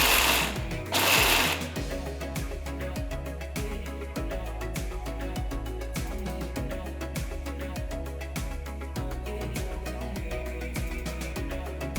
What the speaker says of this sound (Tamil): வறுத்த வேர்க்கடலையை மிக்சர் ஜாரில் மாற்றி கொரகொரப்பாக அரைங்க.